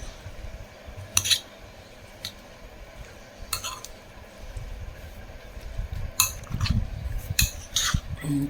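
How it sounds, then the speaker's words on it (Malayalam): A spoon stirs yogurt into a salad in a bowl, giving scattered light clinks and scrapes. They come in small clusters, faint and close, with no speech. "തൈരും കൂടി ചേർത്ത് നന്നായിട്ട് ഇളക്കുക"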